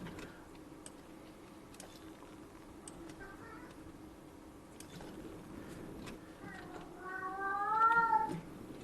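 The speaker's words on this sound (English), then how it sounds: "Ooh, and there's the kitty in the background." A house cat meows faintly in the background, with a few short, pitched cries rising near the end over steady room noise and soft clicks.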